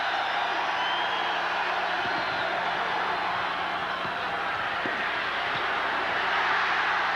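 A basketball arena crowd at a 1991 Georgia Tech versus Duke college game gives off a steady, broad roar of cheering that swells slightly toward the end, with faint thuds underneath.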